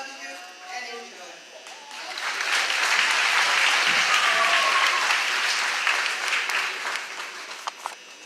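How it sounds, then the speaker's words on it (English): Sustained applause from a crowd at an 8th grade graduation ceremony swells up, holds for several seconds and then fades, with some voices speaking over it. "Can you please hold your applause"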